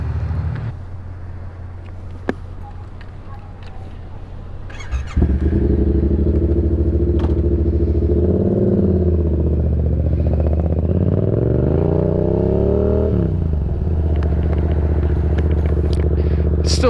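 A 2018 Yamaha MT-07 motorcycle with an aftermarket tune rides on a chilly day, its engine droning steadily loud and close from about five seconds on, with pitch rising and falling as it revs and shifts after a quieter idle-like start.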